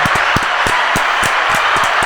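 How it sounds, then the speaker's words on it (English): A small live audience at a podcast taping applauds, with a steady wash of clapping and a few sharper individual claps standing out. "give a round of applause for Ollie"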